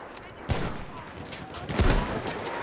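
Sniper rifle fire in a World War I battlefield shooter cracks out in two sharp, loud reports about a second apart over a steady background of distant battle noise.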